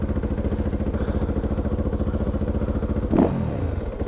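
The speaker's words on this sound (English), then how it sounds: "Interesting sound, dirt bike." A Yamaha WR250F dirt bike idles close by with a rapid, even engine thump, then a brief clattering blip near the end before it settles back to a steady idle.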